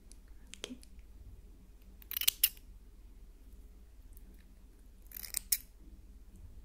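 Small scissors snip close and quiet in two short clusters of crisp cuts over a faint hushed background.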